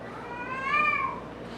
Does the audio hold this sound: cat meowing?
yes